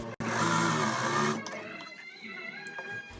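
Sewing machine stitching the shoulder seams of a shirt, a dense close mechanical run of rapid needle strokes that stops abruptly after about a second and a half, followed by quieter handling sounds.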